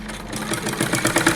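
Sewing machine stitching fabric for a 12-inch doll's lehenga choli, a close, rapid mechanical whirring with fast rhythmic needle pulses that grows slightly louder over a second and a half.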